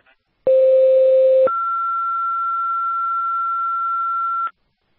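Fire dispatch alert tones come through a radio channel as a sustained two-tone sequence: a lower steady tone for about a second, then a higher steady tone held for around three seconds, loud and clean with no talk.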